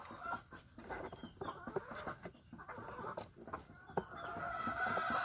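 Several chickens cluck and murmur nearby in an irregular stream, with occasional louder squawks over a busy farmyard background.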